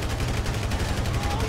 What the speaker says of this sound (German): Ich muss wieder ein bisschen gezielter schießen, glaube ich.